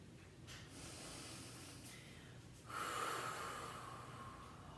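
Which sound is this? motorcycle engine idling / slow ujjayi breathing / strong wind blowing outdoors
slow ujjayi breathing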